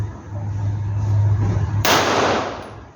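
A single loud gunshot cracks out during shooting practice, one sharp broadband blast that follows a low steady hum and then fades away over the next second, with no voices.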